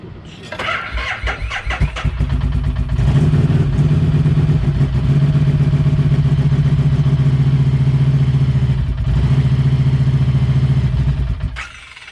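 A motorcycle engine, unstarted for six months, cranks in neutral with uneven sputters for a few seconds, then catches and settles into a loud, steady idle close by.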